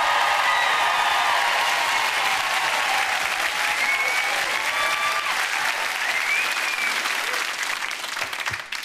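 Sustained studio audience applause on a British daytime chat show, loud and dense throughout as the crowd welcomes an award-winning actress, with some cheering mixed in and no talk over it.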